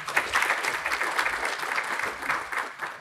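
An audience at a data-protection talk about GDPR applauds to welcome the next speaker, a steady, fairly close round of many hands clapping that continues with no break.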